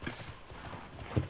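Horse hoofbeats from a mount being ridden in the online game Tera, a quiet rhythmic clip-clop of steady trotting with a louder thud near the end.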